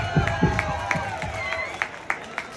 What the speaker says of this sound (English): let's give a round of applause to Million Vibes